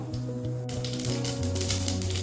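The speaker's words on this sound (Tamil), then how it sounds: "கடுகு ஒரு கால் டீஸ்பூன் போட்டுக்கலாங்க பொரியட்டும்" A quarter teaspoon of mustard seeds spluttering in a teaspoon of hot oil for a ground tomato kuzhambu, starting abruptly as rapid, close, crackling pops over steady background tones.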